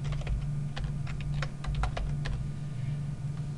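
Irregular bursts of close keystrokes on a computer keyboard as a line of Ruby on Rails code is typed, clicking over a steady low electrical hum.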